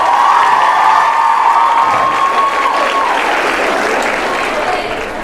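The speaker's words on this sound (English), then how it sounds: "Give him a nice round of applause" An audience at a school Christmas Carol play claps loudly and steadily for a performer's bow, with cheers and children's shouts mixed in, the applause slowly tapering toward the end.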